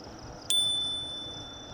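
A single bright bicycle bell ding rings out close by, its metallic tone lingering and slowly fading over a steady background hum.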